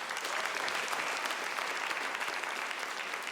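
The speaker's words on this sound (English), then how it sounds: "Round of applause." Audience at a stand-up comedy show applauding, dense steady clapping from a crowd filling the whole stretch at even loudness.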